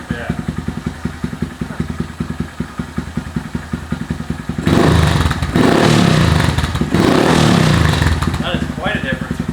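Honda Grom with a Tyga high-mount exhaust, baffle removed, putters at a close, even idle, then blares into two loud, throaty revs before settling back, with voices talking around it.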